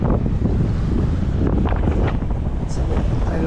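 Strong wind roars continuously across the microphone on a small fishing boat at sea, a loud, unbroken low-pitched buffeting with faint splashing beneath and a voice speaking under the noise.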